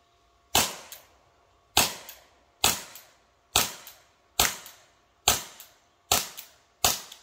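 Eight sharp, crisp reports from a .43 caliber less-lethal chemical round launcher ring out one at a time at roughly one-second intervals, each a loud crack with a quick decaying tail.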